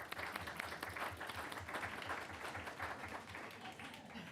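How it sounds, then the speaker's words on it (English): Applause for student greeters at a school board meeting: a steady round of clapping from a modest room of people, continuous for several seconds. "Let's give them a round of applause."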